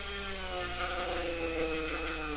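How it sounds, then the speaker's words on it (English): A Dremel rotary tool grinds a bevel into the edge of a prop battle axe, giving a continuous high whine with shifting pitch as it is worked back and forth, close and loud for a couple of seconds. "So we take the Dremel."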